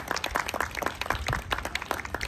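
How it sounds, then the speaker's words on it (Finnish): A small audience at a seniors' circus show claps warmly for a clown, a brief, close burst of irregular hand claps. "Raikuvien aplodien saattelemana"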